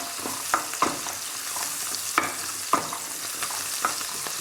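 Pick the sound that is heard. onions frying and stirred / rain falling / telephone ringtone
onions frying and stirred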